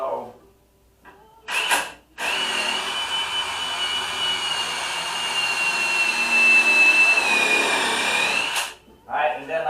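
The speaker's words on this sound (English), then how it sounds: "So I'm gonna first pilot the hole" A power drill bores a pilot hole into wood on an old dining piece, giving one sustained whirring run of about seven seconds, close and loud, with shorter bursts before and after.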